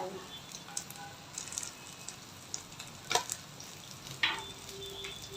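Spiced masala for a surmai fish curry fries in a pan, a faint steady sizzle broken by occasional sharp clinks and scrapes as it is stirred.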